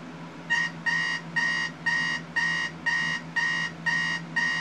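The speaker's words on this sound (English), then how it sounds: "let's go ahead and have a listen to the radio" An old clock radio gives off a hoarse, buzzy tone in nine evenly spaced pulses, quite faint, over a low steady hum, with no talking.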